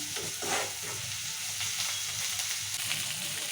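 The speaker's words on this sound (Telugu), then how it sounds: "పచ్చిమిరకాయలు కూడా నూనెలో మగ్గించుకోవాలి ఇలా నూనెలో మగ్గుతూనే మంచిగా ఉంటుంది" Green chilies sautéing in oil in a pan for a bottle gourd curry give a steady close sizzle and crackle, with stirring scrapes breaking through now and then; no voices.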